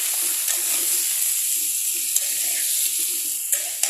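Potato, eggplant and onion frying in a pan for a small-fish curry, a steady close hiss of sizzling oil with light stirring scrapes and occasional soft clicks of a spatula.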